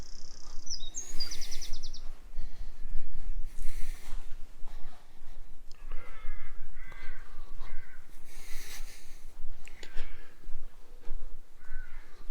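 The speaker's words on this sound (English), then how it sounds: "You can hear the crows." Crows cawing from big trees at the back of a churchyard, repeated harsh calls scattered across the scene at moderate distance, over quiet outdoor ambience with a few other bird chirps.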